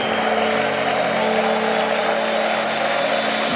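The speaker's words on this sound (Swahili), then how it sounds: "Wapigie makofi mazuri." A church congregation applauds newly baptized members at a Sunday communion service, a dense, steady wash of clapping that fills the room for several seconds, with a faint tonal hum running underneath.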